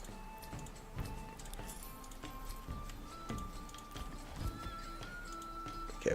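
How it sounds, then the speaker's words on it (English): Horses in the medieval video game Manor Lords give a few soft neighs over a steady clip-clop of hooves. Quiet game ambience runs beneath them, with a brief louder knock at the very end. "we've got another horse"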